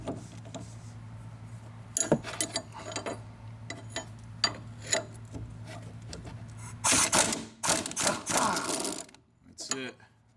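Ratchet spinning a nut off a sway bar link on a Corvette C4 rear suspension, heard as a series of close metallic clicks and clatters in irregular bursts, with a busier, louder stretch toward the end.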